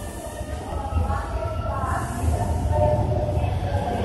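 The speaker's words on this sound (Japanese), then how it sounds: "電車動きます、ご注意ください。" A Hokuso Railway 7300 series electric train rumbles low and steady, its hum and rattle building gradually as it pulls away from Keikyu Shinagawa Station, with faint hiss and clatter in the background.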